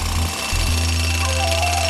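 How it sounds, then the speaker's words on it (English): Compressor-driven rock drills bore into solid pink granite at a hydro dam worksite. The hammering is loud, close and continuous, with a fast pulsing rattle over a steady mechanical drone. "the compressor is driving these drills which are drilling into the solid pink granite rock."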